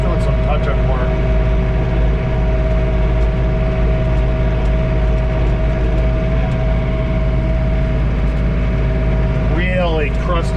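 A John Deere 3046R compact tractor engine drones steadily from inside the cab while driving through a blizzard with blowing snow, and a voice comes in briefly near the end.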